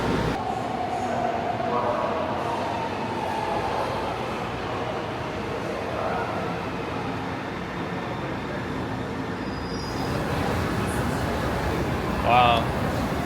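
Interior of a São Paulo metro car in motion, with a steady loud rumble and rail hiss throughout and a brief squeal near the end; voices talk intermittently over the running noise.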